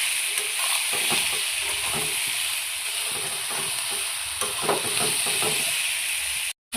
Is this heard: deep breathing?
no